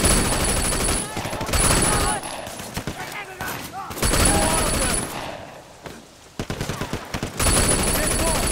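Rapid bursts of gunfire from a Sleeping Dogs shootout during a mafia assault mission, loud and dense in repeated volleys with brief lulls, while voices shout over the firing.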